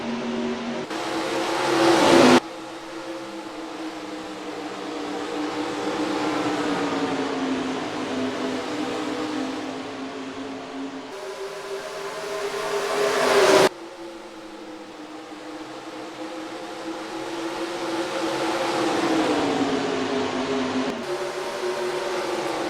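Race car engines roar in NASCAR Racing 2003 during an ARCA Series race, a loud sustained drone with rising and falling pitch as cars accelerate, with abrupt cuts between engine perspectives.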